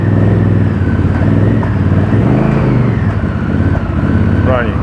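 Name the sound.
Honda VTR 1000 Firestorm motorcycle engine starting and running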